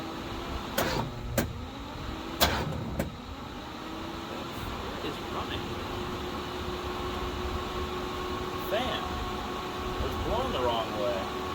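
A 1974 Alfa Romeo Spider's starter motor cranks fast with a steady whirring drone after a few sharp clicks, close up, with a brief voice and faint squeaks near the end.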